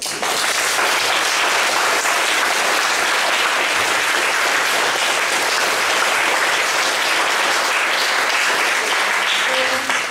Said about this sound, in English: I think that they really deserve a big round of applause